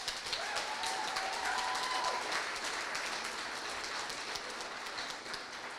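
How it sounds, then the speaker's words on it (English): Applause from the audience at an Ohio allies and advocates event fills the whole stretch as a dense, even patter of many hands clapping, steady and moderately loud without a break. "And that does deserve a round of applause."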